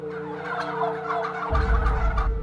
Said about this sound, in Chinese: 农场主假说，一个农场里有一群火鸡